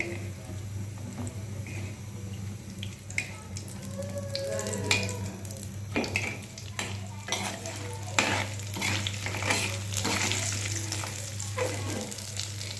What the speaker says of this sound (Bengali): আগে তেল গরম করে নিলাম তেলে আগে ভেজে নিব এপিট ওপিট করে